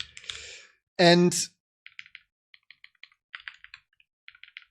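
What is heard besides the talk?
typing on a computer keyboard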